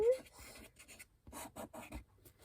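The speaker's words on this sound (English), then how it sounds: "I'm going to take my Sharpie and here I'm going to write" A Sharpie marker squeaks and scratches across paper in short, quiet strokes with brief pauses between them, close up.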